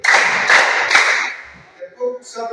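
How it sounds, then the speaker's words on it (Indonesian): Three sharp, loud claps ring out in quick succession from a group of people in a classroom, each one evenly spaced, followed by someone talking. "Tepuk 3 kali."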